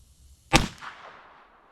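A single sharp gunshot cracks from an S&W 648-2 revolver chambered in .22 Magnum, fired outdoors, a loud close report followed by a short fading echo.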